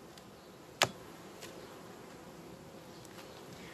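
A honeybee colony buzzes in an open hive whose queen had been fully isolated, a steady close hum with one sharp click near the start.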